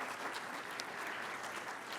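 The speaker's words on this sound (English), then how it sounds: "a big round of applause for our panel." An audience at an all-candidates meet and greet applauds a panel, steady dense clapping throughout at even loudness with no voices over it.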